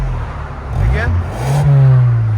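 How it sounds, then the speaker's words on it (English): A 2024 Hyundai Sonata N-Line 2.5L with Valvetronic exhaust valves closed revs briefly, a muted low drone swelling and settling, close by and fairly loud. "This is with valves closed now. Yeah. Again, you guys can hear it's really quiet."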